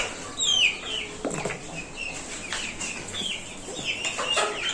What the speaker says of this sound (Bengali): এখানে বাহামা মুরগি আছে 6 পিস